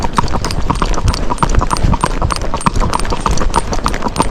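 A Rocky Mountain gaited horse trots downhill, its hooves clopping in a quick, steady rhythm close by, with tack jingling faintly along the way.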